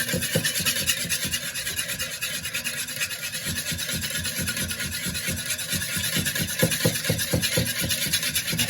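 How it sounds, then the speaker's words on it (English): Rapeseed oil being whisked into a salad dressing in a bowl, a steady close scraping and rasping whisk sound running continuously with quick rhythmic strokes, with no talking. "we're just whisking it a little at a time, like so"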